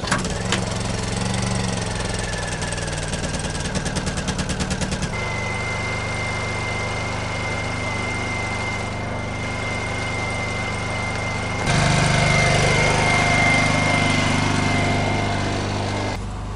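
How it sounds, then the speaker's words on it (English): A hitch-mounted generator runs behind a DIY overland camper, a steady engine drone heard from nearby that grows louder near the end, with no talk. "as you can hear from back here, you hardly hear the generator at all"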